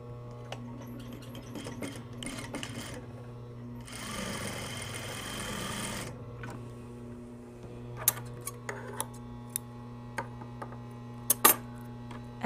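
A sewing machine runs in one short burst while stay stitching the side seams of yoke pants, set against a steady low hum with scattered clicks and taps of handling afterward.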